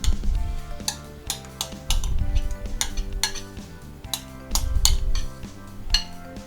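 Metal spoon clinks and scrapes against a cooking pot as mayonnaise is stirred into thick zucchini caviar, a series of close, bright taps repeating over a steady low background hum.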